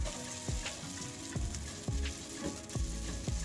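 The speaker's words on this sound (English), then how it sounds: "I'm just going to let it fry" Vermicelli rice noodles fry in a pan with a steady, close sizzle, broken every half second or so by soft low scrapes and thumps of stirring; no voices.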